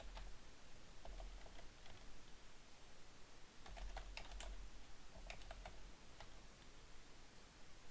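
Fast typing on a computer keyboard while entering data into firearms dealer software: dense, continuous key clatter at close range over a steady background hiss, with no voices.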